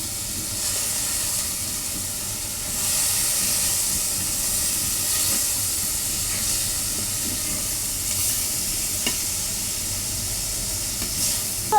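Tomatoes dropped into a hot pan while cooking a fish curry, giving a steady broadband sizzle and hiss that swells slightly after a few seconds and continues alone, with a few faint clinks of stirring.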